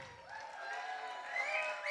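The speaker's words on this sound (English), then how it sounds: "Give a round of applause for Prakshi." Audience applause at an Indian wedding sangeet, a steady broad patter with some cheering and tonal sounds mixed in. It swells slightly toward the end and fills the whole moment.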